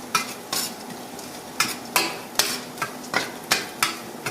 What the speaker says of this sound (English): Stir it up real good.